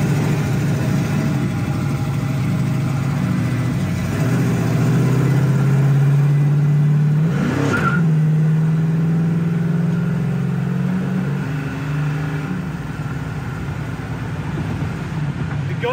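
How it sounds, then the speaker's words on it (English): A 1967 Chevy Camaro RS/SS sits idling at about 800 RPM, a steady low rumble that holds close and even, with a brief blip of revs midway before settling back to idle. "It's still idling okay, about 800 RPM."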